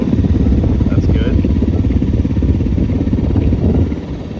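A motorcycle engine idles with a low, steady, throbbing chug close by, its RPM holding even as the handlebars turn, with a voice talking over it before the sound drops slightly at the end.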